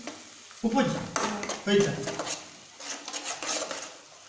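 Egg bhurji frying in a pan, with sharp metal spatula scrapes and knocks against the pan in irregular bursts over a light sizzle.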